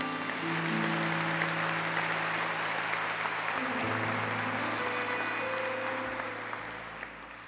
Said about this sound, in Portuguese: Aplaudamos a palavra de Deus.